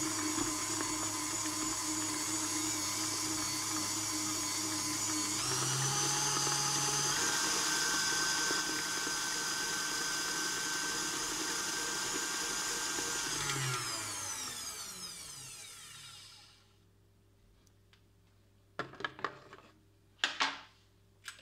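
An electric hand mixer beats waffle batter made with yogurt and four eggs, a steady whirring drone that shifts in pitch as the speed rises, then cuts off, followed by a few clinks.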